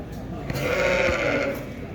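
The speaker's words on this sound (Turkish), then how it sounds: "Bunlar da kuzulu koyunlar arkadaşlar." Ewes with lambs at a small-livestock market bleating close by, a single drawn-out wavering bleat under ambient market noise.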